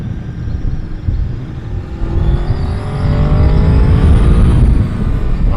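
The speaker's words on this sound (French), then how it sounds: "Il suffit qu'on essore la poignée et ça commence à devenir du n'importe quoi cette moto" A 1999 Honda VFR 800 FI motorcycle engine revs as the throttle is twisted, rising in pitch and growing louder over several seconds, close and alone with no talk.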